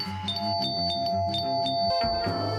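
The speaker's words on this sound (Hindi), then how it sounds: "ये घंटी बजी" An indoor doorbell gives a bright repeating ding-dong chime, loud and close, ringing over a steady musical backing bed.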